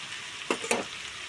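Steady frying sizzle from a pan of sliced potatoes, half-fried, with two brief stirring scrapes close by.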